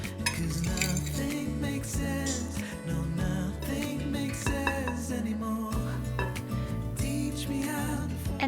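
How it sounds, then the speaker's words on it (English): Dry ingredients whisked together in a bowl for a breakfast recipe, with a continuous busy clatter of utensil against the bowl sounding close and fairly loud, carrying steadily throughout. "I'll whisk all the dry ingredients together"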